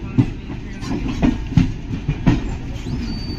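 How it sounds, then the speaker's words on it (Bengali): A superfast long-distance train leaves a station right on time, wheels clacking over rail joints in an uneven rhythm under a continuous close rumble, with no talking. "এটা হচ্ছে আমাদের ট্রেন বেরোলো একদম রাইট টাইমে"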